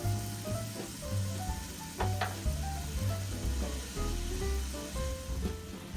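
Sausage meat taken out of its casing fries and browns in a pan for a sausage parmesan cream cheese soup, a steady close sizzle with a few brief clinks and stirring sounds.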